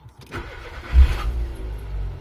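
A Mitsubishi Colt fitted with a gas (LPG) system cranks briefly and fires up, the engine catching with a loud low surge and settling into a rough idle.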